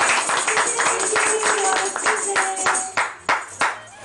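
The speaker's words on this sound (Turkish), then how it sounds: "Alkışlayalım Gamze Bey'e." Audience clapping for a guest at a camera museum event, a dense patter of claps running throughout with a tonal ringing underneath and a few louder sharp claps near the end.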